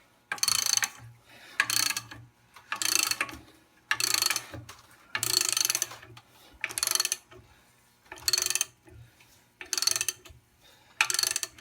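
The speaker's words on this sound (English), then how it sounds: "Then we're going to get a big ratchet." Big 3/4 inch drive ratchet with a 15/16 socket pulling a cylinder liner from a Detroit Series 60 12.7 engine, about nine evenly spaced bursts of loud, close, rapid clicking separated by short pauses.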